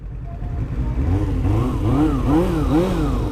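A Suzuki Bandit 250 motorcycle engine revs up and down in repeated rising and falling pulls, loud and close, with a steady low idle rumble underneath.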